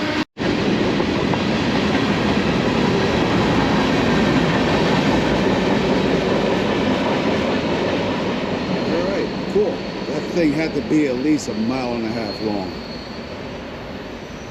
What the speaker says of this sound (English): we're gonna have to wait for this freight train to go by